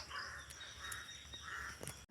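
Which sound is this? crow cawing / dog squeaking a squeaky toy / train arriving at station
crow cawing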